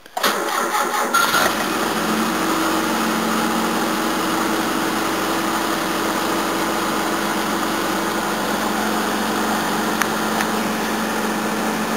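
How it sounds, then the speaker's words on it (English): A Toyota 18R-C engine cold-starts with a brief crank and catches, then settles into a steady, loud idle with an even drone that holds for the remaining seconds, with no voices over it. "try a nice cold start in this car now"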